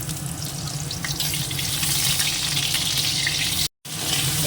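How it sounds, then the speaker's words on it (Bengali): Potato and squash pieces fry together in a pan, giving a steady, close sizzle with a watery hiss that continues unbroken apart from a brief silent gap near the end. "যে আলুটা আর এই যে কোয়াশটা দিয়ে দিয়েছি একটু একসঙ্গে ভেজে নিচ্ছি"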